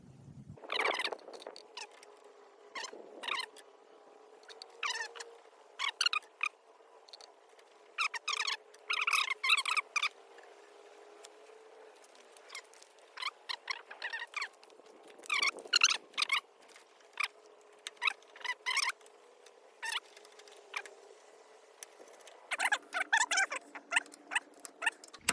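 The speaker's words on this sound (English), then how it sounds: "So that's just with the ratchet." Bursts of quick, rapid ratchet clicks tightening the cylinder head bolts on a Mitsubishi S370 tractor, close and crisp, coming in short runs separated by pauses over a faint steady hum.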